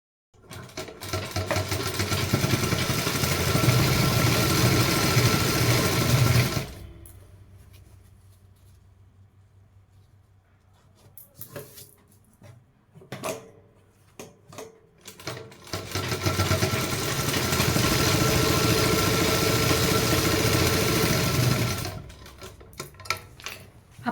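A sewing machine stitches over folded salwar fabric in two long, steady whirring runs, close and loud, separated by a quieter pause of handling and clicks, then stopping near the end.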